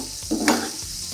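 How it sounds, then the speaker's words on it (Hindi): Roughly chopped onions dropped into a hot pan on a high flame, bursting into a loud sizzle with stirring scrapes that then settles to a steady fry, close and without talk. "तो हम इसमें रफली चॉप्ड अनियन को डालेंगे, हीट थोड़ा सा बढ़ा देंगे।"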